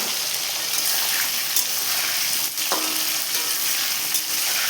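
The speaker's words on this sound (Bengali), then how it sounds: "আমি কিন্তু এবার ভালোভাবে আলুটাকে লাল লাল করে ভেজে নেব" Potatoes fry in a pan for a vegetarian biryani, giving a steady, loud sizzle that runs unbroken throughout, with a few faint clinks and scrapes on top and no talking.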